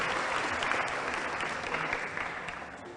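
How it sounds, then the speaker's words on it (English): Audience applause after a school English debate on the causes of poor education, a steady, dense wash of clapping that fills the whole stretch at an even level. "Can you please give a big round of applause for Dr. Franco?"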